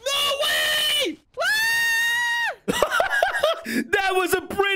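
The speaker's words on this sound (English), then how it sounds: "That was a pretty loud scream." Loud, piercing screams from video game characters, delivered in long sustained shrieks with short gaps between them, followed by a rougher, wavering run of yelling.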